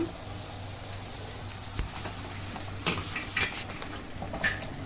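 Turmeric is stirred into food sizzling in a pan, with a soft steady fry hiss and a few sharp scrapes and clinks of the utensil against the pan.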